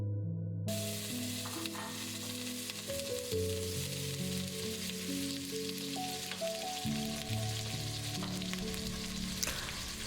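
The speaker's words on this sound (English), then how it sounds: "Carefully bring back the omelette to the pan." Spanish omelette sizzling and frying steadily in a pan, a continuous close crackle under a layer of soft background music, with no speech.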